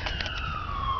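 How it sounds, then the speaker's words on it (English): Emergency vehicle sirens wail from a distance with a steady, slowly falling tone over low rumbling outdoor background noise. "So I'm having a lot of sirens and stuff."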